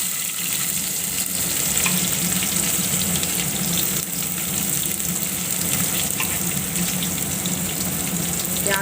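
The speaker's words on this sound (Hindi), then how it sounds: "प्याज को पहले ब्राउन ब्राउन कर लेती हूँ" Onions sizzle in hot oil with asafoetida and red chilli in a home kitchen pan, a steady, close crackling hiss that runs unbroken with faint stirring.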